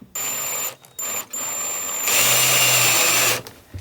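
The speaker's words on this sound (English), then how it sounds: "we're going to put a little hole in here, but Megan doesn't want it to be a full hole" A power drill whines in several short bursts, then runs longer and harder as it bites into material, loud and close.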